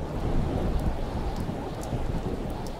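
Steady rain and rumbling thunder from the Tomb Raider Chronicles video game, with rain hitting a surface, fill the space as a dense continuous hiss over a low rolling rumble, with a few faint high ticks.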